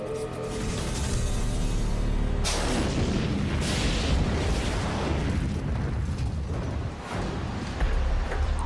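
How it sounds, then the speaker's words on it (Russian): A deep, powerful rock-blasting explosion in a lead mine booms and rumbles, followed by a long roar of crumbling ore-bearing rock and debris that slowly fades. "Порода, в которой проходит рудоносная жила, настолько прочная, что разрушить ее способен лишь мощный взрыв."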